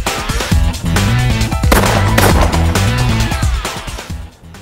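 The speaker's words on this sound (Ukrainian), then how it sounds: "Ну що, я спробував постріляти." Hunting shotgun fired at clay targets on a windy range, a few loud sharp blasts with ringing decay filling the clip, no talking.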